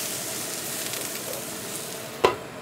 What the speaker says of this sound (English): I'm gonna sear it for about 1 minute.